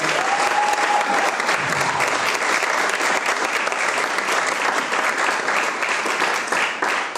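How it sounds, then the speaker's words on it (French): A church congregation at a Sunday service applauds loudly and steadily, with dense, sustained clapping from a large crowd filling the room for the whole stretch. "Est-ce qu'on peut acclamer très fort?"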